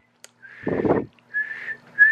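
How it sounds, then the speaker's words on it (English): Two short whistled notes ring out close by to call a puppy, separated by a brief burst of rustling or handling noise. "All right, let me whistle."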